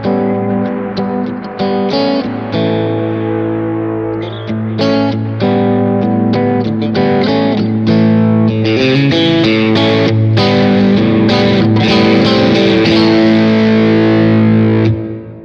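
Distorted electric guitar played through a Kemper Profiler, shifting between a basic rig sound and a morphed rig sound, with loud chords and picked notes continuing steadily throughout.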